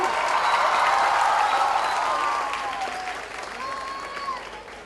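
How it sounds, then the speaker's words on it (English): A school audience applauds actor Farhan Akhtar on his visit to Maneckji Cooper school, loud, dense clapping that builds and then fades partway through, with a voice briefly heard over the tail. "A round of applause, all of you, for Farhan."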